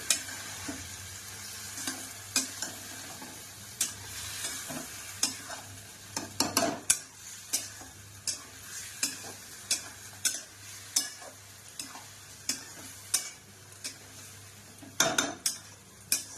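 Marinated chicken frying in a pan, with a steady sizzle underneath and repeated scraping, clinking strokes of a utensil stirring it at an uneven rhythm throughout.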